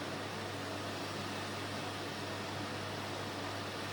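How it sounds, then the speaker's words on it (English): Bacon sizzles in a Thermomix bowl: a constant broadband hiss with a low steady hum underneath, an even crackling sizzle with no breaks or voices. "So you should be able to hear that sizzling."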